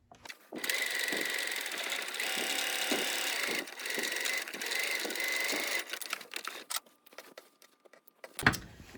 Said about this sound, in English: we are going to do a second line of top stitching, 1/4 inch away from the first